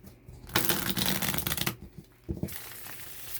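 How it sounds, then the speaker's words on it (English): Quick riffle-shuffling of cards up close, two bursts of crisp flapping separated by a brief pause. "I can shuffle it."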